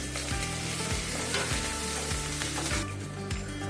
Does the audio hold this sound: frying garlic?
yes